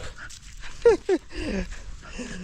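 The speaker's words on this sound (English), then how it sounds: "I'm walking with my dog." A dog out on a walk pants in quick, close breaths, broken by a couple of short whiny squeaks.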